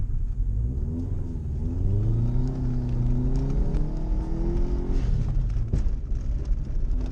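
A rallycross car's engine revs at the start line of a night mud race, its close, steady growl climbing and holding in pitch for several seconds under a constant rumble.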